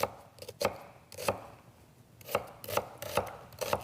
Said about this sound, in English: cut your onion into smaller pieces